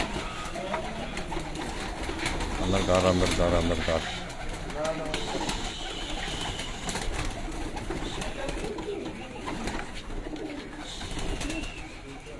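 Pigeons coo in a newly set up loft, the soft repeated calls mixing with nearby talking voices and general room noise throughout.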